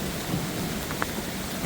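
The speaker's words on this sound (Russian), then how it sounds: "Жестко льет." Heavy downpour with thunder during a fishing trip on the Koksu, hammering steadily and close while someone shelters under a tree, with a couple of brief sharper splashes or cracks standing out above the dense, even roar of rain.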